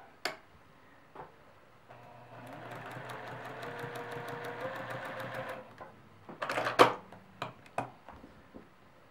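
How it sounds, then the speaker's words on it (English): A sewing machine stitches fabric squares for a quilt block in a steady mechanical whir lasting several seconds, followed by a few clicks and handling noises nearby. "then we're going to stitch on the line."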